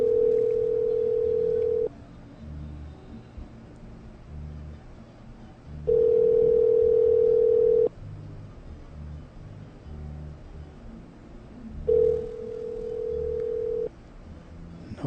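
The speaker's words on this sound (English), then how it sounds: "I don't hear dial tone though." A steady telephone dial tone sounds in three separate stretches of about two seconds each, with quieter gaps between them and no talking.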